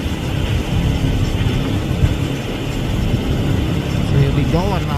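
An outboard motor drones steadily as a boat cruises along a river, a loud continuous low rumble with wind and water noise throughout.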